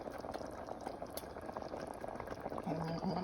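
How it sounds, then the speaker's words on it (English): Beef and vegetable soup boils in a pot, giving a close, continuous bubbling and popping with faint background noise and a brief tonal sound near the end. "as you can see, it started boiling"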